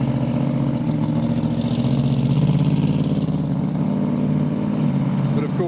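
Dragster and street car engines idle and rumble loudly at a drag strip as the 300-class cars pull away, a steady low throaty drone with some revving layered in, a voice heard briefly.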